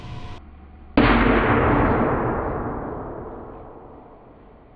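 A quarter-shrinking machine's coil blows apart in a single loud, sharp blast, replayed in slow motion, so the booming burst rings out and fades slowly over several seconds after a brief hum.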